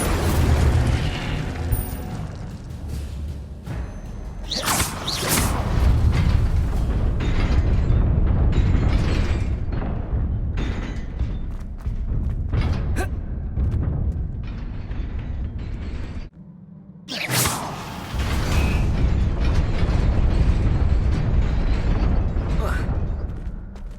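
The Incendio fire spell being cast in Hogwarts Legacy, a loud, dense run of whooshing bursts, booms and crackling blasts over a constant rumble, with a sudden near-silent gap before the blasts resume.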